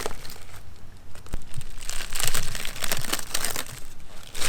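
Masking peeled back from a wheel after spraying Plasti Dip makes close, crackly crinkling and tearing sounds that rise and fall over a few seconds, with no voices.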